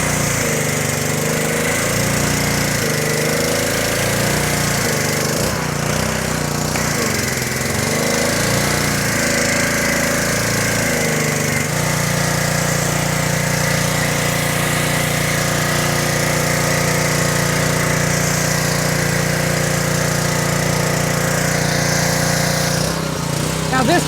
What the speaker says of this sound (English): Now let me start up my pressure washer.